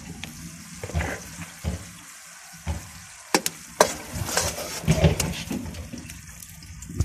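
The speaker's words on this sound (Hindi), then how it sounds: "अब इसमें हम घी डालेंगे 1 प्याली घी।" Ghee sizzles in a hot pan for Indian home cooking: a steady frying hiss with sharp utensil clacks and scrapes against the pan, fairly close, with no talking.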